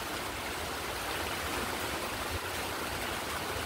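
Steady rain falling outdoors in a rural spot with banana plants and an overhead power wire, a dense continuous hiss filling the whole stretch at even loudness, with no voices.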